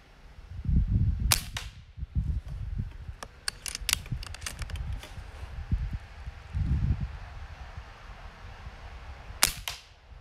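Diana Stormrider .22 air rifle plinking in a backyard: several sharp, close shots spaced a few seconds apart, with soft handling rustle and quiet ambience between them.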